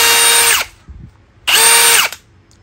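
Two bursts from a Milwaukee cordless drill set to screw-driving mode, each whirring at high pitch for about half a second before spinning down, with a brief gap between them and no talk.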